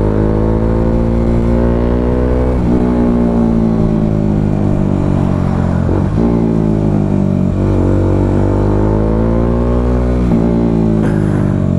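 A Bajaj Dominar 400 motorcycle fitted with a custom 61mm Toto Pipes exhaust revs loudly up close, with a deep throaty drone that swells and falls in several repeated blips.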